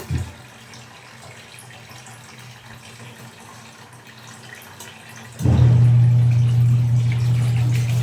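A washing machine under repair starts its drum spinning with water after a quiet stretch, and a loud, steady low hum then continues to the end.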